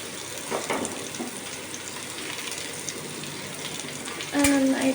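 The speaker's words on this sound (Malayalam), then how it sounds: "നന്നായിട്ട് സബോള വഴറ്റി എടുക്കണം." Chopped onions sautéing in a pan for a Kerala-style chicken curry give a steady, moderate sizzle throughout, with a louder burst of stirring or added water near the end.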